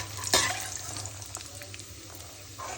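Almonds fry in ghee with a soft, steady sizzle and a brief louder stir or clatter near the start, the bubbling fading slightly as the nuts crack.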